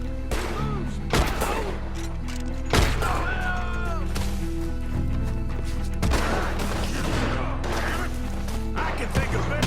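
Gunshots ring out sporadically in Red Dead Redemption 2, several sharp cracks spaced apart over a dense bed of game music and ambience, with voices talking in between.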